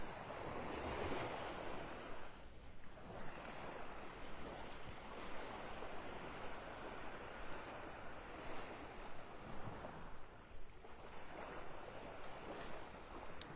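Surf on the beach in North Naples, Florida, on an early morning: a soft, steady wash of waves rising and falling in gentle surges, faint and continuous, with no voices.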